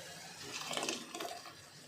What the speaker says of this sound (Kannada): ನೀರು ಎಷ್ಟು ಬೇಕೋ ಅಷ್ಟು ನೋಡ್ಕೊಂಡು ಹಾಕ್ಕೊಳ್ಳೋಣ